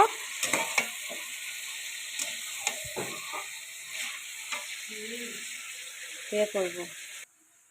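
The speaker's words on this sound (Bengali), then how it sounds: "চিকেনটা আমি ভেজে রান্না করব। তেলে ভালো করে একটু ভেজে নেব।" Chicken fries in hot oil with a bright, crackling sizzle and scattered pops and scrapes, a voice murmuring faintly at moments, before the sound cuts off abruptly at the end.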